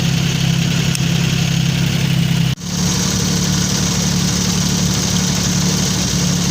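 A 1952 Jeep Willys engine, started for the first time in years, idles loudly and steadily up close with a deep rumble, a single brief dip midway, then resumes its even running.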